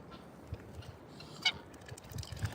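Geese at an animal sanctuary give a few soft honks in the distance over low rumbling background noise, with one sharper call standing out midway.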